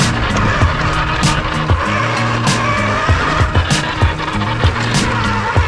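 A Traxxas radio-controlled car drifting on grass, its electric motor whining in rising and falling bursts with repeated tire scrubs and skids, close and loud throughout.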